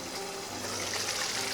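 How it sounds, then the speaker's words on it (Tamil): Oil brinjal kuzhambu, a Tamil eggplant curry, simmering in a pan with a soft, steady bubbling hiss, close and continuous with no talk. "கத்திரிக்காய் குழம்பு சூப்பராக கொதிக்குது."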